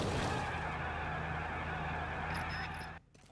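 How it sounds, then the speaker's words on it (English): Car in the video game L.A. Noire braking hard and skidding, a steady loud engine-and-tyre rumble with a low hum running for about three seconds, then cutting off abruptly near the end. "that's the longest braking ever"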